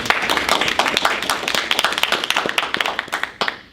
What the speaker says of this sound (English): Y'all, please give them another round of applause.